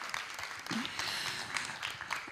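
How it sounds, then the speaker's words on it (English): Applause from an audience at a contemporary art event for a guest who spent the morning with teenagers, a close, continuous patter of clapping at moderate level, with a brief murmur of voices mixed in. "So a big applause, please, for Jesus for still standing."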